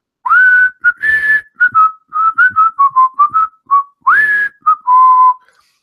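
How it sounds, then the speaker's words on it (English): A person whistles a tune solo, close and clear, a lively string of short and held notes with brief pauses, lasting several seconds. "He'd just be whistling a tune."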